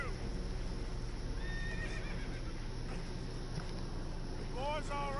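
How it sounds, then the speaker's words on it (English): Spooked horses on a storm-tossed boat in Red Dead Redemption 2 let out several rising whinnies over steady wind and water noise, fairly faint and partly buried. "Horses are spooked, and we're taking on water."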